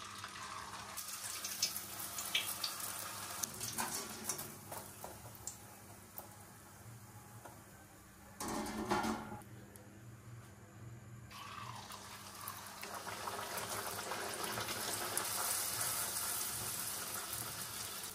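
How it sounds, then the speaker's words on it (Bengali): Luchi, puffed Bengali flatbreads, deep-frying one by one in hot oil in a kadai, giving a steady close sizzle and bubbling with crackly ticks that swell and fade over the stretch, no voices. "একে একে লুচি ছেড়ে ভেজে নেব।"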